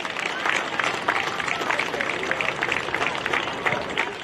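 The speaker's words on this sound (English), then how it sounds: "give both teams a big round of applause for their effort today" A crowd claps steadily at an under-13s football grand final presentation, a dense, even patter of many hands for both teams lasting several seconds.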